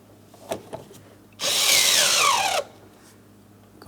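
A power drill with a socket and extension drives anchor bolts during a master window switch replacement on a 2004-2008 Pontiac Grand Prix, giving one loud whirring burst of about a second after a couple of faint clicks.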